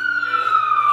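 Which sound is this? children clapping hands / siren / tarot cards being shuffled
siren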